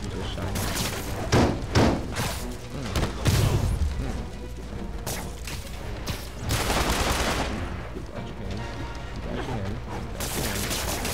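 Gunfire in Marvel's Spider-Man on PS4 comes as scattered shots, thuds and heavy booms over game music. A player talks throughout.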